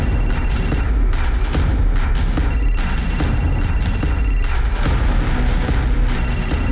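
A telephone rings in steady repeated bursts with short gaps between them, playing under a loud, dense bed of dramatic background noise.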